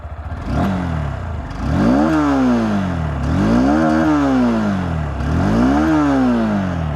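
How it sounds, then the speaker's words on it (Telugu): A 2026 Honda Hornet 2.0 motorcycle engine revs three times in a row through its exhaust, each rise and fall loud and close, with a steady engine drone between the revs. "ఎగ్జాస్ట్ సౌండ్ అయితే కొద్దిగా లౌడ్ వస్తూ ఉంది."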